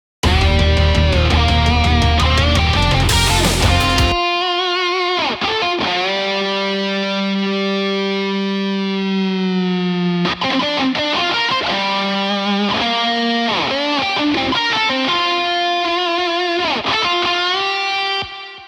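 A heavily distorted electric lead guitar, the Shreddage 3 Hydra virtual guitar running into the Shreddage Amp XTC amp simulator, plays sustained bends and fast runs, loud and saturated, with long held notes between busier passages.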